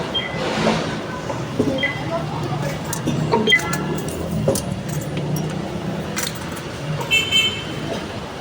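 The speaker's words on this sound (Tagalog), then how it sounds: "may train dito oh" A train passes under a continuous low rumble mixed with traffic noise, with a brief horn toot near the start and sporadic clanks. Voices talk throughout.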